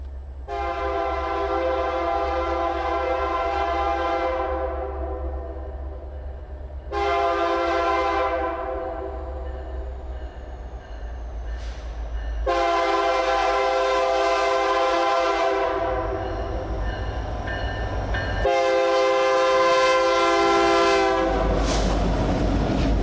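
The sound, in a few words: SD70ACU locomotive hauling Mississippi-bound mixed freight train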